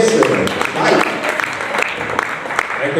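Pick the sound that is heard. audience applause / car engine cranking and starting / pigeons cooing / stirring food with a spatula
audience applause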